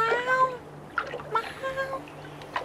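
A cat named Trientje meows several times in short, close cries that rise and fall, with a steady low hum underneath.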